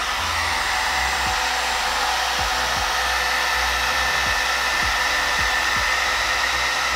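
An Amika blow dryer brush runs on medium heat at low speed, a constant loud airy whoosh with a faint low hum and a few soft bumps as it moves through hair.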